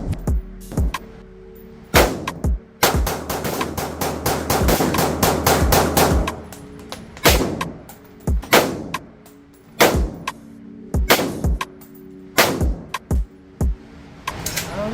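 Rapid gunfire at a shooting range, loud close shots with a dense burst of fast fire followed by single cracks spaced a second or two apart.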